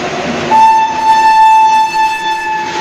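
A train passes close by and sounds a long, loud, steady horn blast that begins shortly after the start and holds almost to the end, with the rumble of the cars underneath.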